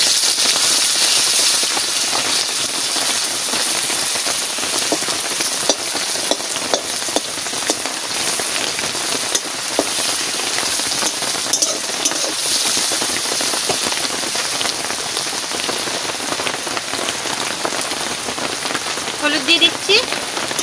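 Onion and dried red chillies, one slit down the middle, fry in hot oil for a pointed gourd or ridge gourd malai curry, giving a steady, loud crackling sizzle throughout with occasional stirring and a voice talking now and then.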